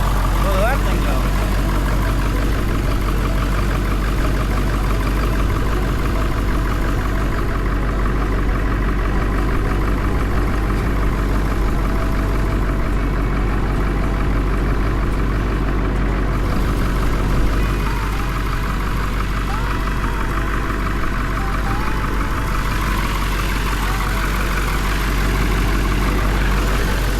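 A vehicle engine idles steadily right after an alternator repair, a continuous low rumble running throughout at a constant level while voices talk over it.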